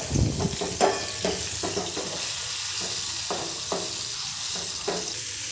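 Bitter gourd curry, a Maharashtrian karela bhaji, sizzles in a pan while a spoon stirs it in irregular scraping strokes, close and steady, with no talking.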